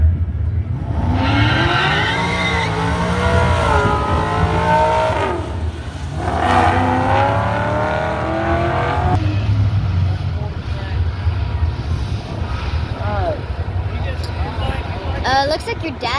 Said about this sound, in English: It makes the engine loud as hell.